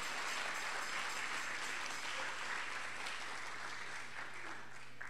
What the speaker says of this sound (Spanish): Dale fuerte ese aplauso a nuestro Dios y a nuestro Señor.